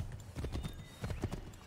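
Horse hooves clip-clop steadily in Assassin's Creed 3, a quick close rhythm of game hoofbeats with a faint whinny-like touch, no talk over them.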